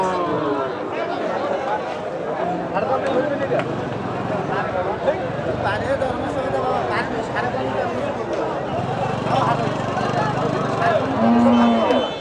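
A Holstein Friesian cow lows loudly and close at a busy Qurbani cattle market in Bangladesh, with a long drawn moo near the end, over constant crowd chatter and people talking nearby.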